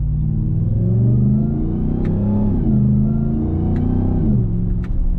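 A RAM TRX pickup truck accelerates with a steady deep engine rumble, and the supercharger whine rises under it. The sound stays loud and close throughout, with no talk.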